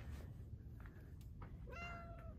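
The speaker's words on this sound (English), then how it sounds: "Look how fat that cat is." A fat cat lets out a faint, drawn-out meow late in the clip, after a few soft, brief sounds, over a low background hum.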